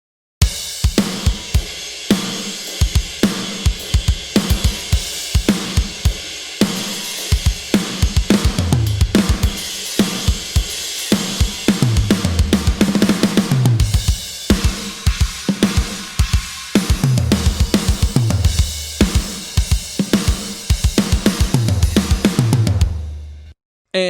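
A fat, heavy, compressed drum mix produced in Logic Pro plays a steady groove of punchy kicks and snappy hits, dense and loud, with no voices.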